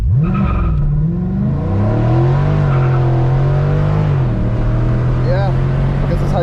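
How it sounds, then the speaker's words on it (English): A 2020 Dodge Challenger Scatpack widebody launches hard, its loud engine note climbing then holding a steady strained roar, with voices talking over it. "Launch control one last time."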